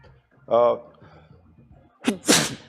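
A single sharp sneeze bursts out close by after a brief vocal sound, loud and sudden against a quiet background.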